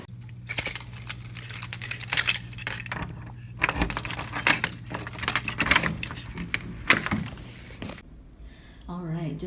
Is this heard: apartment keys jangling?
yes